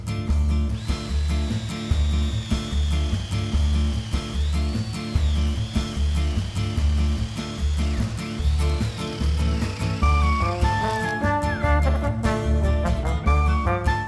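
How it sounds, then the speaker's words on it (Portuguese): A power drill with a flat spade bit bores a hole in wood for a mortise-and-tenon bench, a steady loud whirring drone that runs without pause, with a rising and falling whine and no voices. "você pode furar mesmo com broca chata"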